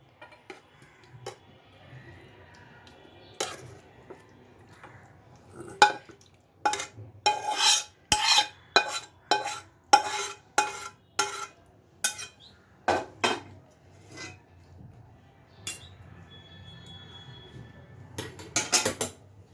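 Pots, pans and metal utensils clink and clatter while shim chorchori, a bean dish cooked with mustard and poppy seed, is served, with a dense burst of sharp knocks and scrapes in the middle and scattered clinks before and after.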